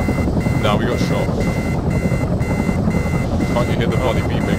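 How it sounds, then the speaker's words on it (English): Repeated electronic helicopter warning beeps pulse steadily over loud engine and rotor noise in the video game ArmA 3, with a voice talking now and then. "Can't you hear the body beeping?"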